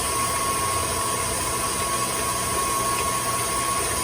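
A stand mixer with a paddle attachment beats clafoutis batter, giving a steady, unbroken motor whir and hum with a thin high whine throughout.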